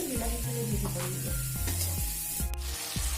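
Ginger garlic paste fries in a hot pan with a steady sizzle, broken by a series of rhythmic scraping strokes as it is stirred, close and moderately quiet.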